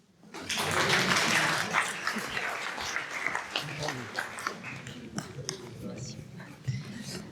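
Applause from an audience at a debate on light intermediate vehicles rises quickly into a steady wash of many clapping hands, then thins into scattered claps while a voice speaks over it.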